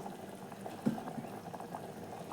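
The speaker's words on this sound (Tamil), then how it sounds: "நல்லா கொதித்து வந்துருக்குது பாருங்கள்" Thick kurma gravy for chapati bubbles and simmers steadily in a pot, with soft popping blips over a low, continuous boil.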